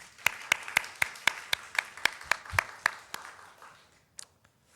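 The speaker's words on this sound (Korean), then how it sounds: "가장 멋진 그 PD이신 우리 하나님께는 영광의 박수를 한번 올려드리겠습니다" At a Sunday morning church service, sharp, evenly spaced claps ring out in a steady beat of about a dozen, then fade into a few scattered stray claps.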